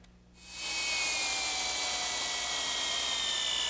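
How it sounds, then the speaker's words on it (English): Power drill boring a hole in wood for a bed bolt on a pencil-post bed, a steady loud whine that ramps up within half a second and runs continuously, close by and alone with no talk. "Okay, with that hole drilled,"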